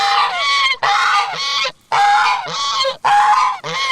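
Guard geese honk loudly in a series of harsh, nasal calls, several overlapping bursts close by with brief pauses between them, on a farm pasture.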